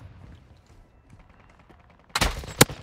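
Sudden loud bursts of gunfire in Call of Duty Warzone on Ashika Island, two or three sharp shots near the end after a quiet stretch.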